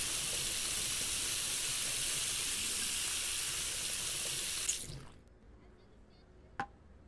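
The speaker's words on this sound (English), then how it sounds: "just wash everything, like the chopping boards, and wash all the seasoning off it" A kitchen sink tap runs in a steady hiss while dishes are washed in the Cooking Simulator game. The water cuts off abruptly near the end, followed by a single faint click.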